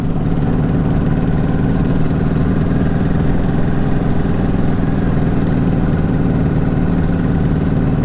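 A motorcycle with sticking carburetors runs steadily while being ridden at about 24 mph and high revs, a loud, continuous droning engine note with no pauses and no voices.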